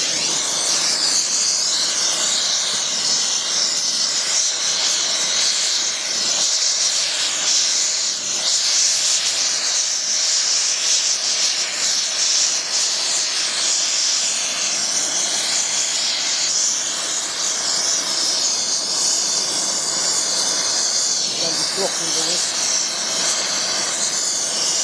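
Brazing a brass fillet over a damaged cast iron clutch pivot: a loud, steady torch hiss runs close and unbroken from start to finish, with no talking.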